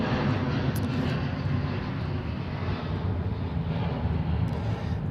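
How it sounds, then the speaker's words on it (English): An Alaska Boeing 787 Dreamliner on its takeoff roll at Seattle-Tacoma airport gives a loud, broad, continuous jet-engine roar at a distance, with wind buffeting the microphone. "All right, 787 on the roll."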